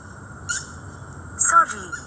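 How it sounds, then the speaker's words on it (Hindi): A small bird gives two brief, high chirps about a second apart, clear and close against a quiet background. "ये चिड़िया मुझे कब तक परेशान करती रहेंगी ये बताओ।"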